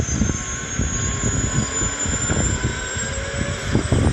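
A steady mechanical helicopter engine roar with a high whine runs throughout, loud and continuous like an aircraft rotor, in a video game, with no talking.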